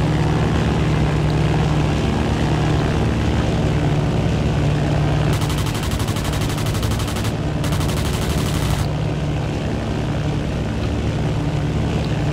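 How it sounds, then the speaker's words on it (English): Propeller aircraft engines drone continuously and loudly in the video game Battlefield 1942, with a harsh stretch of rapid machine-gun fire cutting in partway through. "The ultimate map for airplanes in Battlefield 1942 is the Battle of Battle of Britain."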